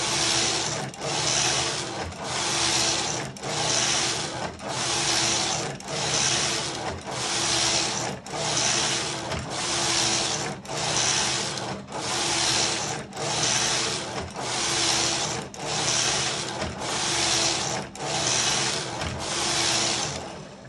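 Silver Reed knitting machine carriage knitting tuck stitch from a punch card, a rhythmic whirring and clacking sweep repeating about every 1.3 seconds, close and steady with no talking.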